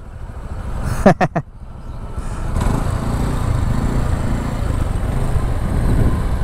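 A small motorcycle engine idles and putters steadily in the background after a few sharp knocks, a continuous low rumble at moderate distance, in a flooded area at high tide.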